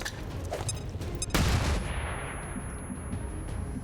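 A flashbang grenade goes off in the video game XCOM 2 Long War 2: a single loud, sharp burst about a third of the way in, over a steady bed of in-game combat noise and rumble.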